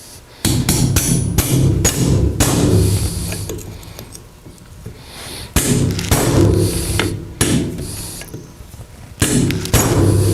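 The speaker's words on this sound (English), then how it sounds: "Now I'm going to go ahead and drive the pin in up past the knurling" Repeated metal hammer strikes drive a steel pin into the door hinge of a 1947-1954 Chevrolet pickup, loud close thuds and clanks in irregular bursts with short pauses between.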